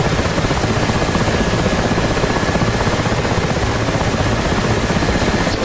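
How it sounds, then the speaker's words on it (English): Military helicopters in a video game fly toward a strike position, their steady, loud rotor thrum and turbine whine filling the air continuously with no breaks. "Now the helicopters are getting in position just a couple of miles away from the base to do their strike."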